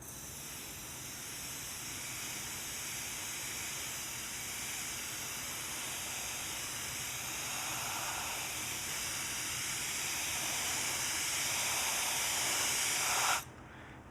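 A can of compressed air duster sprays in one long, continuous loud hiss that builds slightly before cutting off abruptly near the end.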